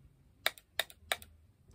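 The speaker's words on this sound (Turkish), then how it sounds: "bir de son olarak mouse'un şu tıklama sesini alacağım" Three crisp mouse clicks, evenly spaced about a third of a second apart, close and quiet against a faint background hum.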